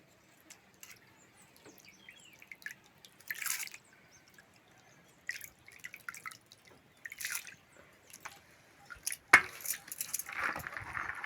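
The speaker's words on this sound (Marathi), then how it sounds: "तर आता गहू धुवायला सुरुवात झालेली आहे" Wheat grains being washed in water by hand, giving scattered drips, splashes and soft wet squishing at close range, irregular and fairly quiet, with no talking.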